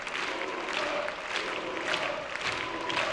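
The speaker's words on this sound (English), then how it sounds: "A huge, huge applause for Ruben there." An audience at a Rubik's Cube European Championship applauds, with sustained, moderately loud clapping and some crowd noise holding evenly throughout.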